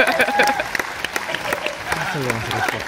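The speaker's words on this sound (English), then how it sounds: "Round of applause for that fur ball" Applause and cheering from a comic convention audience in Liverpool, with a voice speaking over the clapping throughout.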